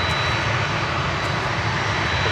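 An American Airlines Boeing 777-200 arriving from Cancun gives a steady, loud, broadband jet roar that holds evenly throughout, with no voices.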